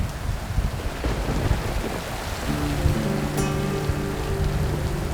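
Rain falls steadily through an outback storm with a deep rumble of thunder, a constant broadband wash that gains a sustained tonal hum midway and a brief sharp chirp, no voices.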